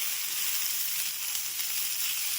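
Beans, carrot and potato fry in a pan for vegetable upma, giving a steady, even hiss of sizzling oil that runs unbroken throughout with no voices.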